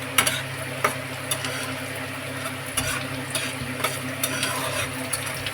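Eggs fry in a hot pan with a steady, moderate sizzle and crackle, broken by a few sharp ticks and spatters, and no one speaks.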